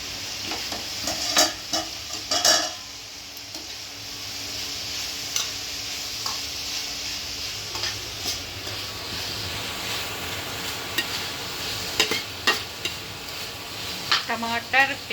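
Soya chaap frying in oil in a pan, stirred with steady sizzling and scattered scraping clatters from the spoon, close and fairly loud, with no one talking.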